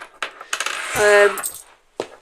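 British coins clink and jingle together in a change jar close by, a short metallic shuffle with a brighter ring in the middle and a final clink.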